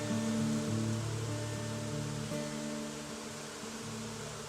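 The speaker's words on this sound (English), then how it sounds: "We have up here just an entire colony of bees creating some type of amazing magnetic force field around this tree." A colony of bees swarming around a tree makes a steady, dense drone of overlapping buzzing tones. It sounds close and continuous, fading slightly toward the end, with no voices.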